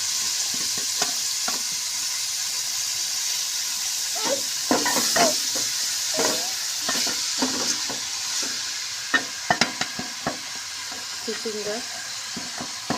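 Shredded cabbage and mixed vegetables for a chicken vegetable spaghetti fry in hot oil, a steady hiss broken by repeated scraping stirs of a utensil in the pan, close and moderately loud.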